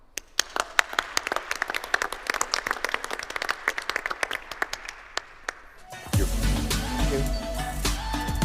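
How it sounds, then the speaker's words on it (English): Conference audience on a main stage claps for a panel, starting as scattered individual claps that build to continuous applause, then music and a fuller crowd sound take over near the end. "big round of applause for the dream team,"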